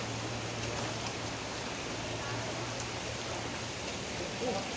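Rain falls during a flood as a continuous, even hiss of water with a low steady hum beneath, filling the whole stretch with no distinct breaks.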